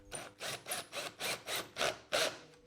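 A wrench works a loose bolt on a scooter variator, giving about eight regular, close ratcheting rasps, each burst a little louder than the last, with no talk.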